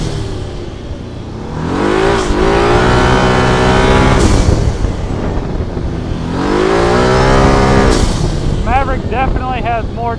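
Can-Am Maverick UTV with an Aerocharger turbo accelerating: engine revs rise in two strong sweeping surges with a lull between, loud and close, ending in a whining flutter, with talk in between.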